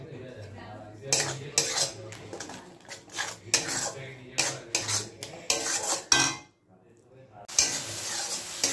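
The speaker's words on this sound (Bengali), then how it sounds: "চলো ভালো করে টমেটোর কাঁচা গন্ধটা যাতে চলে যায় এমনভাবে কষিয়ে নিতে হবে।" Metal spatula scraping and clanking in a pan as tomatoes are sautéed down for a Bengali chicken masala gravy, a string of sharp irregular scrapes with brief pauses, close and fairly loud.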